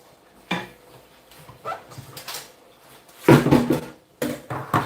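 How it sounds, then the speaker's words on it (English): A spoon stirs ginger in a cooking pot, giving several close, irregular clanks and scrapes against the metal, with a loud burst of clattering toward the end. "Give it a very good stir."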